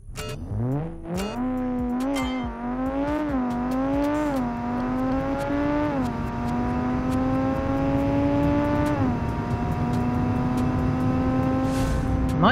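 An inline-5 turbo supercar engine in the BeamNG.Drive driving game, racing hard with a rising rev climbing through several gear shifts, each change dropping the pitch before it builds again, loud and close with no talk.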